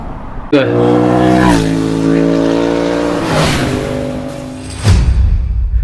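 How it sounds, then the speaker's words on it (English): Cars speed along a road beside a walking route, engines roaring loudly and close as one passes with a rising then falling tone, another vehicle rushing by near the end. "cars are coming really fast across this bit"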